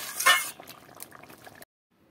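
A vegetarian teasel gourd curry cooked with ghee simmers in a pan, bubbling and popping softly for about a second and a half before stopping abruptly into silence.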